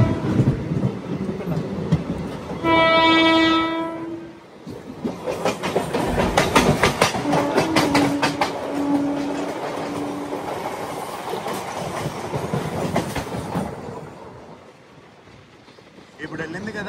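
A crossing train rushes past a halted train at Nidubrolu station, opening with a loud sustained horn blast, then a long, steady rumble and rhythmic wheel clatter that fades out as it clears the platform.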